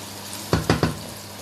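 Mixed vegetables with bell pepper being stirred in a pan, three short bursts of sizzling and scraping in quick succession over a quiet background.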